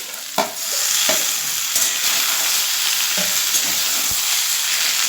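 Beans, potatoes, chopped onion, tomato and chili fry in a pan with a steady, broad sizzle, broken by a few sharp scrapes and clacks of a stirring utensil; no one speaks.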